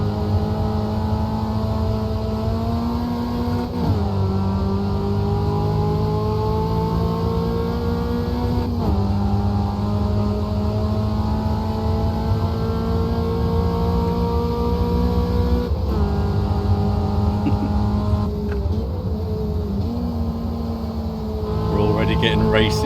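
Loud, continuous race car engine note of a VW Passat in Automobilista 2 at Jacarepagua 1988, holding high revs with brief dips on gear changes, steady and close throughout with talk over it.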